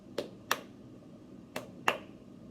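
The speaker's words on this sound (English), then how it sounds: "It was 1. I clapped 1." A single sharp hand clap from a music rhythm review, standing out as a crisp broadband transient among a few similar claps over a quiet room background.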